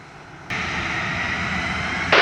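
An airliner begins its takeoff roll on runway 25 at Montego Bay, Jamaica, its jet engines surging from a low rumble into a loud, steady roar close by that swells again just before the end.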